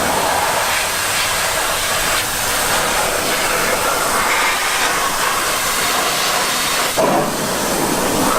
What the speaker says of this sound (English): So I just got this pressure washer.